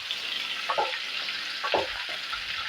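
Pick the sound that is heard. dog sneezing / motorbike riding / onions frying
onions frying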